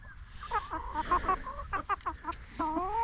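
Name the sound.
rooster clucking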